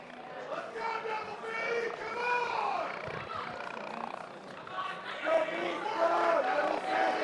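Hometown crowd at a fight shouting and roaring at a tiring fighter in the closing seconds, a loud continuous wall of voices that swells toward the end, with a commentator talking over it.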